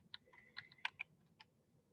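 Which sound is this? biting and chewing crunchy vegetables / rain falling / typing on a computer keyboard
typing on a computer keyboard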